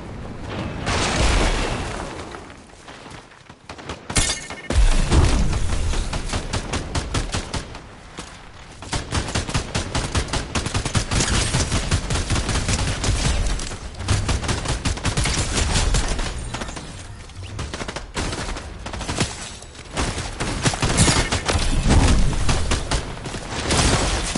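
Dense gunfire from a ranked Fortnite match in Chapter 4 Season 4: loud, near-continuous rifle bursts and booming shots over about twenty-four seconds, with brief lulls between volleys.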